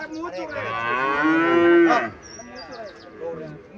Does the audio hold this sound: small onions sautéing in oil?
no